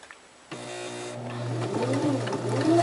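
Sewing machine stitching satin fabric for a pillowcase: a steady mechanical hum and rapid needle clatter that starts abruptly and runs continuously, growing slightly louder.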